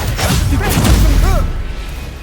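A booming Bombarda blast spell in Hogwarts Legacy, a loud heavy explosion with rumbling low end and magical swishes, followed by a fading tail.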